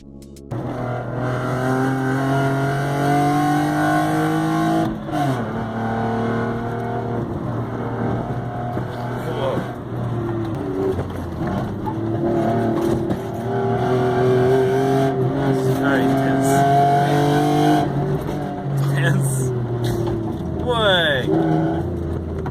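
Cars drifting and racing at a motorsport scene in Japan, engines loud and continuous with rising and falling revs and whining sweeps throughout, crowd and voices mixed underneath.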